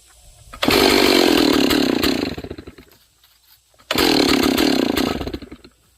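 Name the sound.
038 AV Magnum 2 chainsaw running before a cut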